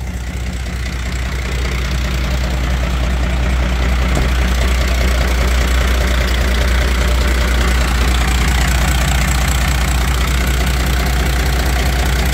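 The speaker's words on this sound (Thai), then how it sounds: "เครื่องยนต์อีซูซูครับผม" A heavy Isuzu six-cylinder diesel truck engine of about 180 horsepower idles steadily with a low, rumbling throb and slight knocking, loud and close, with no voices.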